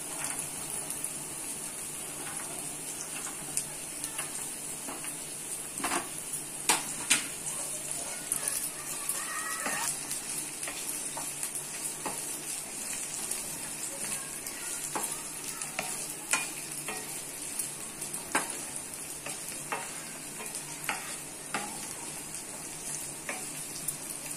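Peas and cauliflower fry in a pan for fried rice with a steady, faint sizzle throughout, broken by intermittent scraping and clinking as a spoon stirs the vegetables.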